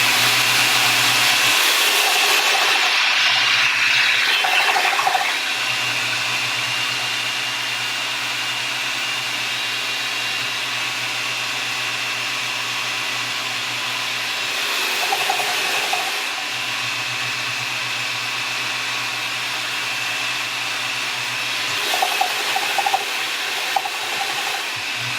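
A raw organic nut butter grinder whirs steadily and loudly as it runs, with the pitch shifting in brief surges whenever the machine is shaken, and no voices.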